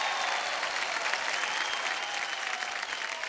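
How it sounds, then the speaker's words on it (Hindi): Loud, dense studio audience applause on a televised dance competition show, even and continuous from start to finish with no talk over it. "जोरदार तालियां हो जाए।"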